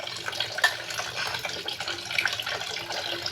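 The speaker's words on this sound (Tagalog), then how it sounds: "Lagyan nyo ng tubig." Water splashes steadily into a pot of rice for cooking, a continuous close pouring with light sloshing.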